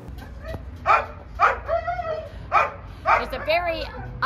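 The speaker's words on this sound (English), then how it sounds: "unhappy puppy in the truck" A puppy left in a parked truck whines and yelps several times in short, high, close bursts, with small whimpers between them.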